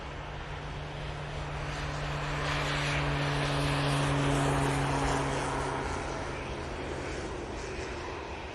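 Jet airliners, an EasyJet and a Vueling, on final approach into Manchester Airport, make a steady broadband roar with a low engine hum that swells toward the middle and eases slightly as it passes overhead.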